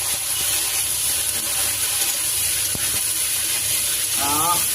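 Potatoes and shrimp frying in a pan, a steady loud sizzle and hiss throughout with faint clinks of stirring and a voice near the end.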